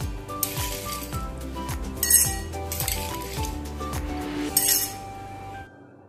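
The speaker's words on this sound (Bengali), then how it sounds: "এর মধ্যে দিয়ে দিচ্ছি বেশ অনেকটা পরিমাণে ক্রাস্ট আইস" Crushed ice for a KFC-style virgin mojito is dropped into a glass, giving bright clinks and rattles close up, with two louder bursts of clattering amid quieter tinkling.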